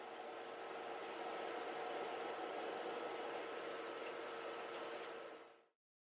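Spray gun applying a first coat of conversion varnish to the underside of a buffet table, a steady loud hiss of spray lasting several seconds before cutting off abruptly.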